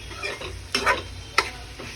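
A soybean dish stirred in a pan with a spoon or spatula gives off a soft, low background sizzle under several distinct scraping strokes, one sharp clack of utensil on metal, and no voices.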